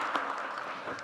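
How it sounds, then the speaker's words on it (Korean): An audience applauds at a culture ministry briefing in Ulsan, a soft, dense patter of many hands clapping, heard distant and faint. "박수 막 치셔도 됩니다."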